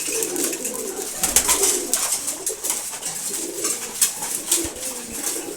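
Continuous low cooing from a loft of khaki, maxi racer, racer and giribaz pigeons being fed in the morning, several birds overlapping close by, with scattered scuffs and light taps.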